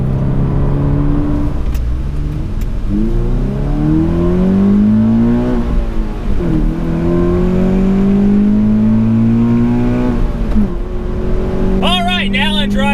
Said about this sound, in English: Not only is it louder thanks to the TRD exhaust